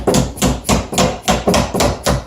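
Repeated sharp smacks drive a wooden vise jaw into place, about eight evenly spaced loud knocks in quick rhythm, close and clear with no talking.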